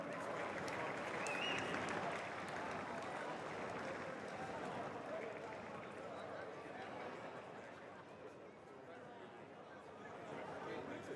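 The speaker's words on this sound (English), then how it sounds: "Please, a round of applause for greyhound number 1." Applause from a crowd at a greyhound race trophy presentation for the Million Dollar Chase winner. Steady, distant clapping continues for several seconds, blended with crowd chatter and an announcer's voice.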